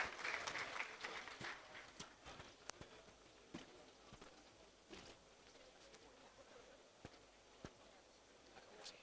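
Sparse, faint applause fades quickly into scattered individual claps at a distance, thinning out to occasional isolated taps.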